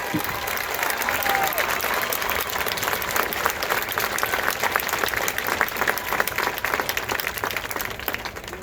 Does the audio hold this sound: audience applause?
yes